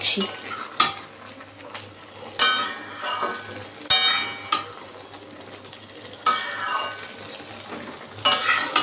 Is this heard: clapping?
no